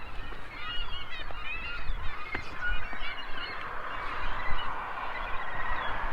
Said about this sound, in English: What are all the seagulls doing down there? They're all trying to eat on something.